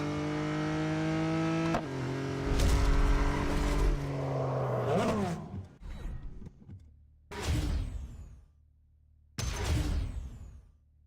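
Race cars in the mobile racing game Real Racing 3, engines revving with rising and falling pitch, then several loud whooshing bursts and pass-bys separated by quieter gaps, with no talking.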